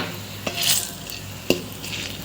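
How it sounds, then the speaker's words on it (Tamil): Tamarind sautés in oil in a pan with a soft, steady sizzle. Two sharp spoon taps against the metal and a brief hissing stir break through, close up, with no speech. "இப்போ இதுலேயே நம்ம வந்து கொஞ்சம் புளி போட்டு அதையும் வந்து வதக்கிடலாங்க."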